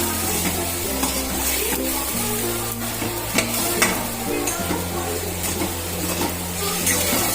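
A spatula stirs turmeric, chili powder and coriander-cumin powder in a hot pan while they fry and sizzle. The scraping is continuous, with a low steady hum from the stove underneath and no voices.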